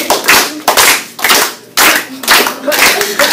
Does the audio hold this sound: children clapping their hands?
yes